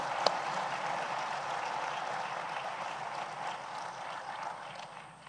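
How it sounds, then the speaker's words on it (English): Applause from the audience at the AFSA 2024 conference opening ceremony, a soft, steady wash of clapping heard from a distance that fades slightly toward the end. "I believe Honorable Dr. Emmanuel Ujirashevja deserves a louder round of applause."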